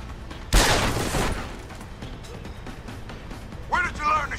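A single burst of gunfire goes off in Deus Ex: Human Revolution, a sharp loud crack fading over about a second. It is followed by quiet, then a short voice near the end.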